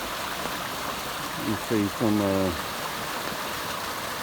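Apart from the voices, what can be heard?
flooded creek water flowing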